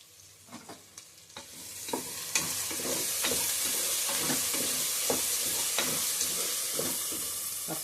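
Goat head curry cooking in oil in a pan, a loud continuous sizzle and hiss that swells after a few opening clinks, with regular scraping stirs and utensil knocks punctuating the frying.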